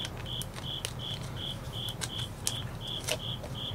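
A single cricket chirps in a basement, repeating short, even, high trills at a steady pace over low background hum, faint but clear.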